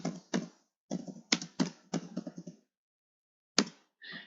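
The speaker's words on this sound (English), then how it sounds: "you type in your body text" Keys clatter on a computer keyboard while an email message is typed, clustered quick taps in bursts with short pauses and a final brief tap, close and clear with no voice.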